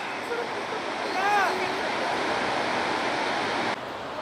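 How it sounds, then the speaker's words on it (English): The Bow River waterfalls at Banff, Alberta, give a constant roaring wash of water throughout, with a voice briefly rising over the rush early on. "Bow River Waterfalls."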